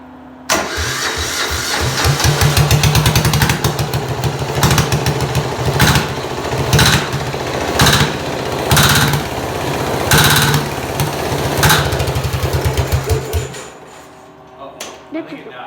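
A diesel junior dragster engine cranks on a cold start, a long loud run of rapid rhythmic turnover pulses with uneven surges that stops abruptly near the end, and people talk faintly nearby.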